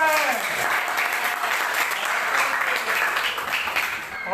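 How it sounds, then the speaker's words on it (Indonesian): Audience applause during a teacher performance assessment session in a classroom, dense and steady for the whole stretch, loud and close with no pause. "Berikan tepuk tangan untuk Ofer."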